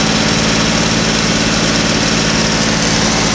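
A John Deere 5055E turbo tractor engine running at 2200 RPM while driving a Sonalika thresher, a loud, steady, close-up mechanical drone with a constant low throb and no voices.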